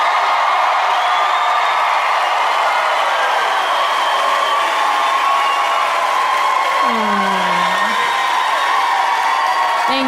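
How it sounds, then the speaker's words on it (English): A comedy club audience in Nashville cheers and whoops loudly and continuously, a dense wall of crowd noise that holds steady throughout. "that's very kind of you to cheer for that."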